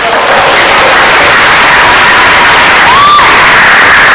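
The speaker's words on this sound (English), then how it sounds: "I thought you would clap for this great God." A church congregation fills the space with loud, dense cheering and clapping, a continuous roar of voices and hands, with a sliding shout rising above the crowd near the end.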